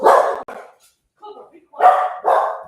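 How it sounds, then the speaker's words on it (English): A dog barks nearby in short, loud bursts with a pause between them, alongside speech. "Hey, dog, stop it."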